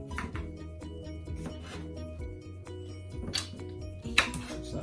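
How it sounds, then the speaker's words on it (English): A knife cuts cucumbers on a board for cucumber juice, giving a run of close, irregular chopping taps and scraping knocks with a sharper click near the end, over a steady low hum. "I'm going to start out by cutting up my cucumbers, adding them to my blender."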